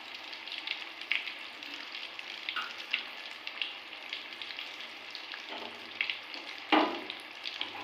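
Vegetable chops coated in besan batter bubble in hot oil with a continuous moderate sizzle, punctuated by occasional light clinks and one sharper scrape as they are slowly lifted out; no voices.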